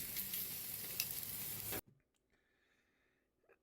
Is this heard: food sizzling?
yes